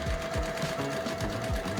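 Sewing machine stitching a quilt, a steady continuous mechanical whir with a fast regular needle rhythm and a constant motor hum, close and alone.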